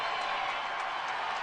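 A hockey arena crowd cheers during an early-game fight, a steady broad roar of voices and scattered clapping that holds level throughout, heard from within the stands.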